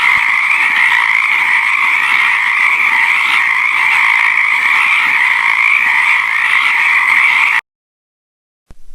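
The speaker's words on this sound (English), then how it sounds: "whenever it rains, the little green frog sits by the river and cries" A steady, loud chorus of frogs croaking beside a river, a continuous dense trilling that runs unbroken for several seconds and then cuts off abruptly into silence.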